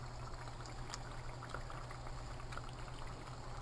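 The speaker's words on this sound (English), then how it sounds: "They're frying good" Steady crackling sizzle of panfish frying in a pan, a dense continuous hiss with scattered pops, with a low hum underneath.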